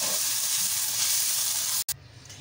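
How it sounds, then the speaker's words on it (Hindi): A spiced radish paratha filling with black pepper powder frying in a pan gives a loud, steady, close sizzle that cuts out briefly near the end, then returns a little softer, with no voices. "2 मिनट के लिए हम इनको फ्राई कर लेंगे।"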